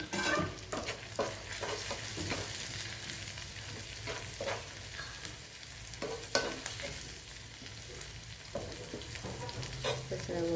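Chili tempering (vaghar) sizzles and crackles in hot oil for dal fry, a steady close frying hiss with scattered sharp pops and stirring clicks, no talking.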